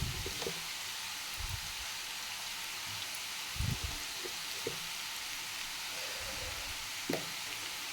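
Potatoes frying in a pan with chili powder and garlic give a steady, fairly quiet sizzle throughout, broken by a few louder clinks and stirring scrapes.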